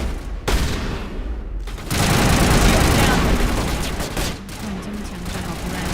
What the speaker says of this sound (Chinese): 这枪战都要打好久，因为每个人都有那个防护罩